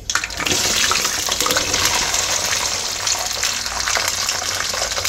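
Whole gunda fruits dropped into hot mustard oil, a loud, steady, continuous sizzle and bubbling close by with no talking.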